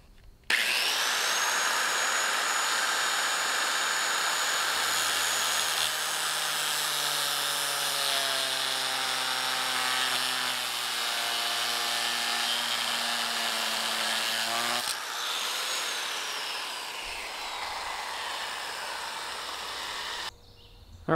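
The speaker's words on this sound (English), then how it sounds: "grinder and just cut off the first 3 to 4 steps here" An angle grinder whines loudly and steadily while cutting the first steps off a metal step drill bit, its pitch shifting slightly as it bites, then dropping off briefly before resuming and stopping.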